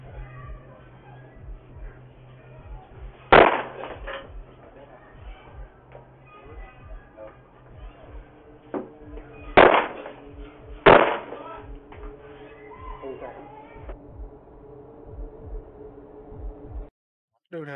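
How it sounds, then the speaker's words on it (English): A man kicking a house door, caught on a doorbell camera: three loud, sharp bangs spaced apart over a quiet, low hum, with faint voices in between. "the loud bangs of the attempted burglar's foot hitting the door"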